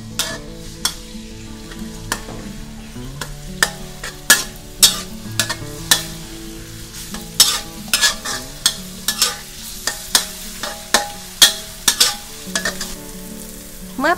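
A pounded paste of garlic, pepper and coriander root is stir-fried, with a regular run of loud spatula clacks and scrapes over a soft sizzle of oil.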